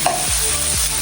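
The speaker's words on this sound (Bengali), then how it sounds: "পেঁয়াজটা একটু ভাজা হয়ে গেলে আমরা তারপরে" Onion and green chili fry in a pan for a home-style vegetable dish with potato and egg. A loud, close sizzle is cut by two quick scraping stirs, with no talking.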